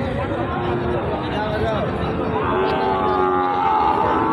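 Sahiwal cattle moo at a busy cattle market in Joypurhat. Drawn-out lowing calls rise over a constant murmur of crowd chatter and people talking nearby.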